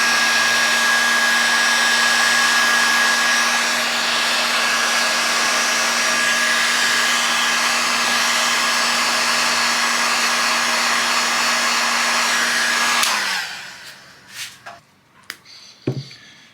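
A heat gun blows steadily and loudly while shrinking heat-shrink tubing over wire joints during a Yamaha XV250 motorbike restoration, a constant whooshing hum that cuts off near the end, leaving a few faint clicks and handling noises.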